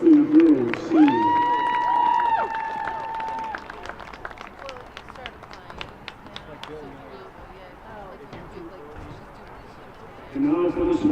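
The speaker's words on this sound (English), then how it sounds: "How about a nice round of applause for the Salem High School girls seniors." Outdoor crowd at a girls' varsity high school soccer game applauds and cheers for the seniors, steady clapping under a loud PA announcer voice, tapering off and rising again at the end.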